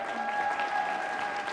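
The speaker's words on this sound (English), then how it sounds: "I would like a huge round of applause for each of our judges that are going to come out." Steady applause from an audience, dense clapping that holds at an even level throughout without pauses.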